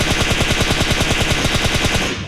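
Rapid automatic gunfire rings out in PUBG Mobile while firing with the scope open, a loud, evenly spaced burst of shots that continues unbroken before cutting off at the end.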